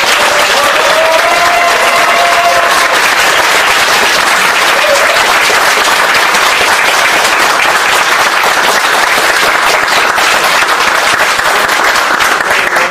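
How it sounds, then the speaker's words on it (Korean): Audience at a political talk event clapping hard for a candidate, loud, sustained, dense applause throughout with a few voices calling out early on. "박수 한번 세게 치겠습니다."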